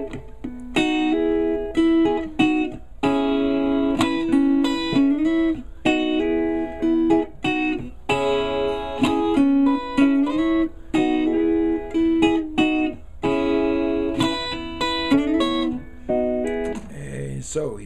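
Electric guitar playing a lick from a song, a steady run of bright, sustained melodic phrases repeating across the passage, loud and close with no talking over it.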